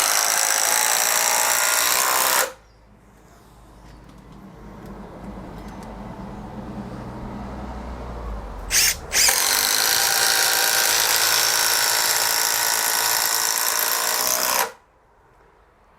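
A Makita TD173D impact driver drives a 5-inch screw and then a 10-inch screw: a loud, steady hammering rattle of about two seconds, a quieter pause, then a longer burst of around six seconds that stops abruptly.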